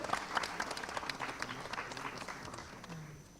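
Steady applause from a crowd, a dense wash of claps continuing throughout at moderate loudness, fairly distant.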